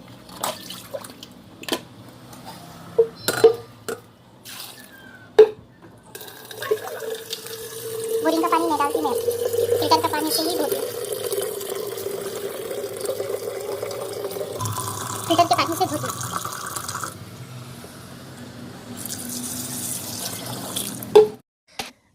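Tap water runs steadily into a sink while jujube berries (ber) are washed by hand, a continuous mid-level splash with small shifts as the fruit is moved, preceded by scattered clatter and a brief voice.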